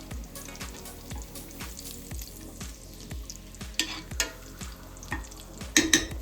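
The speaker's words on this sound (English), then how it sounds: "we're going to take half the bacon out now, and we're just going to set this aside" Bacon fries and sizzles in a pan while a utensil repeatedly scrapes and lifts half the strips out, giving a steady crackle with regular close taps and a few louder clinks.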